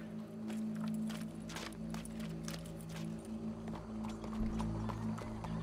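Horse hooves clip-clop in a steady rhythm in the Wild West world of the video game Red Dead Redemption 2, moderately near under a low ambient hum, with no clear whinny.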